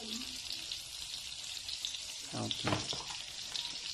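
Eggplant omelette (tortang talong) frying in bubbling oil, a steady soft sizzle throughout with brief louder spatters near the end, and a voice speaking briefly.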